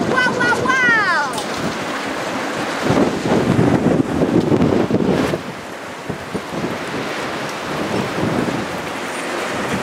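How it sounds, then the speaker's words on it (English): Strong wind roars and buffets the microphone in heavy gusts, with a voice calling out briefly at the start and noisy rushing throughout. "You can tell it's windy out here."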